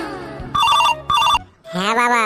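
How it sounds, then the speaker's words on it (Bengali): A telephone ringtone sounds in two short, bright melodic bursts close by, followed by a voice. "যখন তখন ফোন আসছে"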